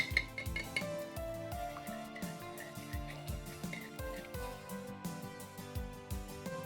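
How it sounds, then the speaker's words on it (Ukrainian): A whisk beats egg yolk in a bowl with rapid, rhythmic metallic clinks and taps, close and fairly even in tempo, the strokes repeating steadily through the whole stretch with no talk over them. "Перемішаємо винчиком."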